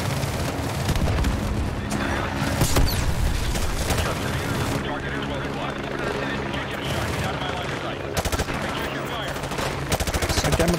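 Machine gun fire and explosive bursts from the Call of Duty: Modern Warfare 2 campaign rattle steadily across the whole stretch, dense and loud, with game voices and a player talking over the combat.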